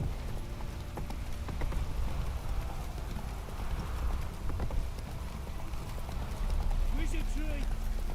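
Roach the horse gallops in The Witcher 3, hooves clip-clopping steadily under a continuous background bed, with someone talking over it.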